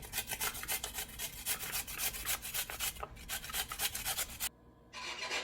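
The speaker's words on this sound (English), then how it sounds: "get yourself 3 medium-sized potatoes and grate them" Medium-sized potatoes are grated by hand on a grater, giving rapid, rhythmic rasping strokes heard close up, with a short pause near the end before the scraping resumes.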